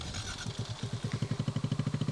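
Small Kawasaki Z125-class motorcycle fitted with modified intake and exhaust, its engine revving up with a rapid, rising pulse as the ride gets under way, close and fairly quiet.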